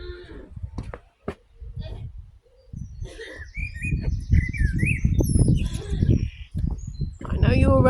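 Small garden birds chirp and tweet in quick high bursts, scattered and fairly close, while a person talks over them for most of the stretch.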